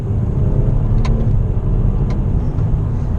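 BMW 228i xDrive engine heard from inside the cabin through a series of downshifts, a steady loud low rumble with two faint sharp blips as the gears change.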